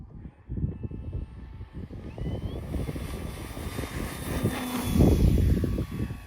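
A Flightline Corsair 1600mm RC warbird plane takes off from a runway, its electric motor and propeller rising to a loud, steady whine that swells as it climbs, heard close and outdoors with wind noise.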